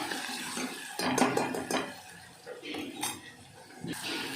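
A spoon clinks and scrapes against a metal dish as chillies are mixed, in a few irregular bursts of clatter close by, with faint water in the background and no talking.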